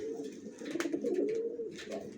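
Racer pigeons in a loft coo steadily and close by, their low throaty calls rising and falling in overlapping phrases across the whole moment.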